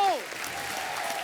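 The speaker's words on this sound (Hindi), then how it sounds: "वेले की टीम के लिए जोरदार तालियां" Brief burst of studio audience applause on a Hindi comedy talk show, opening with a short falling tone before settling into steady clapping for just over a second.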